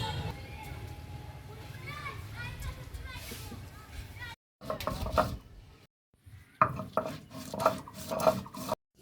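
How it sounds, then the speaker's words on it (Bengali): Garam masala being ground by hand for a vegetarian dal, giving rhythmic rasping, rubbing strokes up close, broken by short pauses, with voices talking and children audible in the background. "তারপরে গরম মশলা বেটে নেবে"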